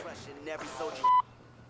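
A voice talks briefly, then a single short electronic beep sounds clearly, followed by quiet.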